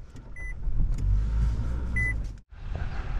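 A car rolls up with a steady engine rumble, two short electronic beeps chiming over it, then a brief drop to near silence before the idling drone resumes, no one speaking.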